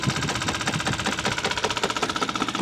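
A small homemade solenoid engine runs at a fast, even rhythm, its rapid mechanical clacking pulses close and steady throughout.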